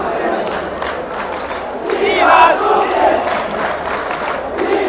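Manjappada football supporters chanting and cheering in a stadium, a dense crowd roar with rhythmic shouted chants that swell in the middle, heard from within the stands.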